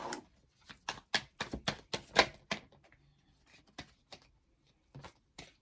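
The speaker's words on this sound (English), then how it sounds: "I'll show you the cards after I have shuffled." Quick bursts of crisp riffling and tarot card snaps, a rapid flurry early on, then sparser soft slaps and taps near the end.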